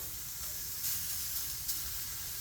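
Stir fry searing on a Blackstone griddle makes a soft, continuous sizzle with faint hissing, and a couple of brief louder crackles as food is moved.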